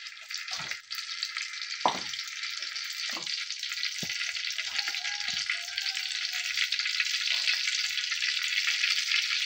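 Oil heating in a kadai (wok) for a small pond-fish curry gives a steady, close hiss of sizzling that fills the whole stretch, with a few soft clinks and scrapes of utensils and no talking.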